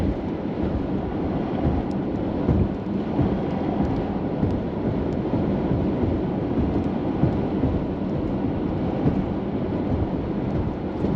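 Thunder rumbles from a lightning bolt during a Colorado storm near Lamar, a low continuous roll under a steady wash of wind noise, moderately loud and without sharp peaks.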